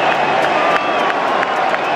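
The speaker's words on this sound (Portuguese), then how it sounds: "E se liga na torcida metendo pau no Cristiano, enquanto ele tava caído no chão." A large football stadium crowd jeers and roars at Cristiano Ronaldo as he lies on the ground, a steady, loud mass of voices with whistles and scattered shouts rising through it.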